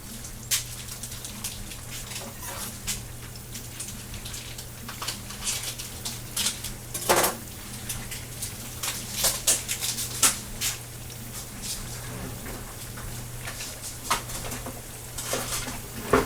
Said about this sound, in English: I'm going to start grating some cheese.